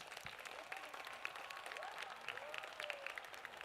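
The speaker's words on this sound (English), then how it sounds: "Let us give them a huge round of applause." An audience at a school sports day claps in a steady, moderately distant round of applause that fills the whole stretch with dense hand clapping.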